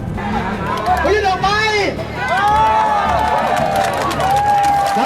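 A crowd at a Thai political protest cheers and claps, loud and close, with many voices shouting and talking over the continuous din.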